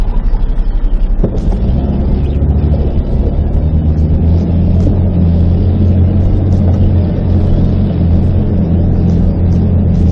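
A 4x4 grinds up a steep, slippery hill in first gear, its engine droning low and loud throughout with a sharp knock early on and bumps and clatter from the rough climb.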